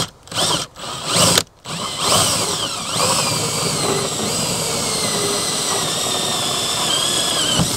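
A power drill whirs steadily after a few brief stop-start bursts, its high motor whine running loud and continuous to the end.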